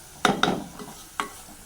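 Spices fry in oil for garlic kuzhambu, stirred with three distinct spoon scrapes against the pan over a faint sizzle; close, no talking.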